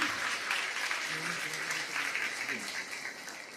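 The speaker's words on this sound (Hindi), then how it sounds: "ताली कमजोर है आपकी।" An audience at a poetry event claps in a steady wash of applause lasting a few seconds, with a voice speaking faintly underneath.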